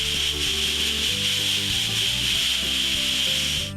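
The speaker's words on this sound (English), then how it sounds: "Use the emery cloth to clean the inside rim." Emery cloth rubs rust off the inside rim of a brake rotor, a steady, continuous abrasive scraping that runs close and alone throughout, with a faint repeating rhythm beneath it.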